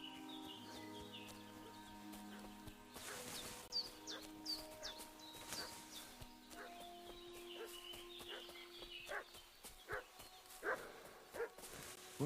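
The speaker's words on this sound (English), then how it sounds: "What's that dog making such a fuss about?" A dog in the medieval game Kingdom Come: Deliverance 2 barks repeatedly in irregular bursts, some at mid-distance, over a busy village soundscape with clucking fowl and birds.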